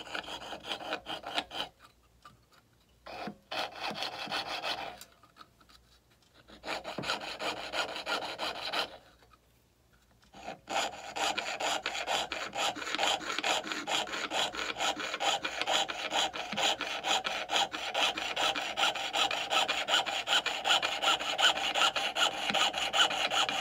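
A piercing saw cuts a spoon silhouette out of metal, pressed too hard so the blade snaps, giving steady close rasping strokes in bursts with short pauses before a long continuous run of sawing.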